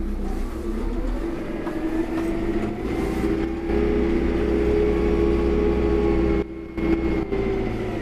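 A Kubota M4N-071 narrow vineyard and orchard tractor drives along a row, its engine a steady, close, continuous drone with a brief dip near the end.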